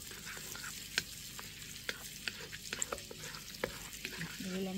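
Butter melts in a hot pan already slicked with olive oil, giving a soft, steady sizzle with scattered crackles and the scrape of stirring; moderately quiet and close, with no talking over it.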